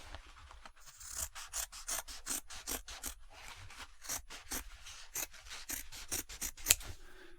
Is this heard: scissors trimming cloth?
yes